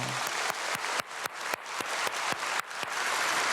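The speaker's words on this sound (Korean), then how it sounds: "우리 축복의 박수 한번 하겠습니다" A congregation claps in unison in a church during an early-morning prayer service, with steady rhythmic claps of about four per second, loud and close, and no voices over them.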